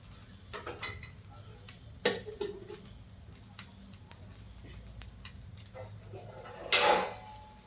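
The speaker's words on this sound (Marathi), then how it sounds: "आता मी डोस्यावरती थोडंसं तेल टाकणार आहे. साईडने थोडंसं तेल टाकून घेणार आहे." Oil drizzled around a fasting (upvas) dosa in a hot pan crackles in soft sizzles, punctuated by sharp clinks and scrapes of a utensil against the pan and two louder bursts of spattering.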